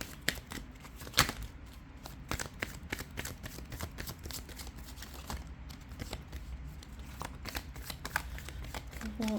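Tarot cards being shuffled and drawn at close range, a continuous run of quick soft riffles and flicks with brief louder snaps, with faint talk underneath.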